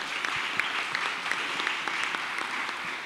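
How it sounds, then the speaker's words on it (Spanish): Applause from an audience at a conference on global financial architecture and regional infrastructure, a steady, moderately distant patter of clapping hands throughout. "Un aplauso para ustedes."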